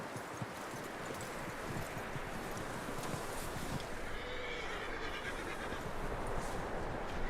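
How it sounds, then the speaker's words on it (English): In the video game Red Dead Redemption 2, a horse neighs and whinnies over a steady bed of hoof clip-clops and rustling, moderately loud and close, with no talk over it. "That looks like a decent horse. You should keep him."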